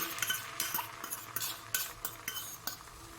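Beaten egg going into hot mustard oil in a pan for a fluffy omelette, giving a steady close crackling sizzle with repeated sharp spatter bursts and faint utensil clinks, no voices.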